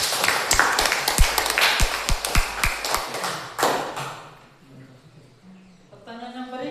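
A school class claps hands together during a lesson, with a run of about a dozen sharp, fairly even claps. The clapping stops, and quiet talk follows.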